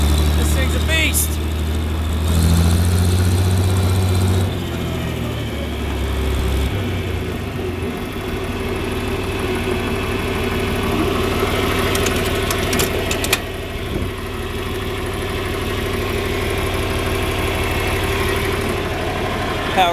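A John Deere 4010 tractor engine runs steadily nearby with its power takeoff spinning, a low, even rumble that holds constant throughout, with a brief higher whine near the start.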